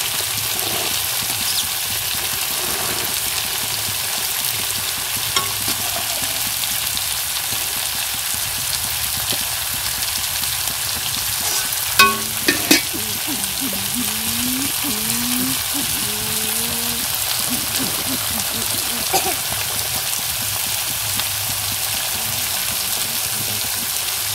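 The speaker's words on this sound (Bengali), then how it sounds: "এদিকে ঘুগনিও কষানো হচ্ছে, এদিকে লুচিও ভাজা হচ্ছে" A constant, dense hiss of luchi frying in hot oil fills the clip, steady and close, with a faint voice briefly rising underneath midway.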